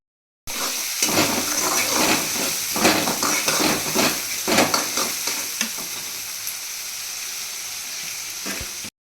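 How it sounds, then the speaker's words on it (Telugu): Chopped onions sizzle and crackle in a hot pan while being stirred, a steady close frying hiss with scraping stirs throughout, quieting slightly toward the end. "ముందుగా కట్ చేసి పెట్టుకున్న ఆనియన్స్ వేసుకుంటున్నాను."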